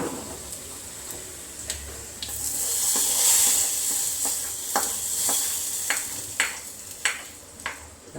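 A hot frying pan hisses with steady sizzle as ingredients for a Kerala breakfast curry go in, the frying swelling in the middle, followed by several crisp taps and stirring clicks of a utensil against the pan.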